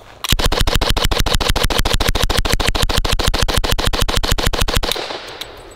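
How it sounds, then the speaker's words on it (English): An M3 Grease Gun submachine gun firing .45 rounds on full auto: one loud, steady burst of about thirty-five evenly spaced shots over nearly five seconds, then a fading echo. "Now, Hoss, let me show you some real American ingenuity, chambered in the Lord's caliber 45 AARP."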